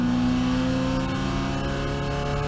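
Spec Miata race car engine heard onboard during a 24-hour endurance race, a loud steady mid-pitched drone with a slight rise in revs, close and continuous with no talk.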